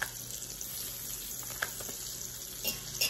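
Fresh garlic sizzles steadily as it fries in a pan for yellow egg noodles with beef, a soft continuous crackle with a few faint clinks and pops, no voices.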